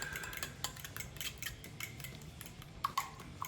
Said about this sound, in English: we're just gonna whisk these till we get these eggs blended